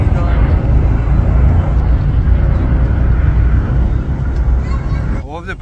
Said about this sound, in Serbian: Ovdje prolaze svi avioni koji poleću iz Beograda